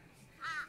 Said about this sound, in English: sorry about the birds.